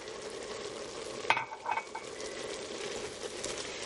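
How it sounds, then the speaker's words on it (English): Beef and onion sprinkled with flour cook in a pot for chili, a soft steady sizzle with a few scraping stirs of a utensil near the middle, quiet and close. "you cook it stirring for 1 minute"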